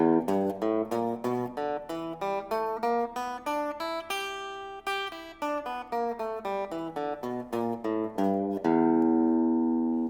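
A guitar plays a bluesy scale note by note, climbing up and back down at a steady pace, ending on a ringing sustained note.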